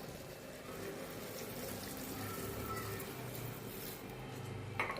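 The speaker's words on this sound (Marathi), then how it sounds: "त्यामध्ये आता आपण गरम पाणी टाकूया" Hot water pours into a pot of mutton curry with homemade spice masala as the meat steams in its own juices. A steady, close rushing pour runs throughout and ends with a small splash.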